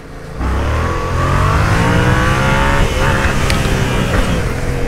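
Yamaha MT-07 motorcycle on its stock exhaust accelerates hard, the engine note climbing steadily and loud and close throughout, with no talk over it.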